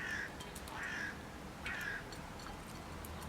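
Crows calling in a wild setting, three harsh caws spaced about a second apart at moderate distance over a soft outdoor background.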